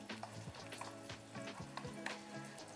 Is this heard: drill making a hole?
no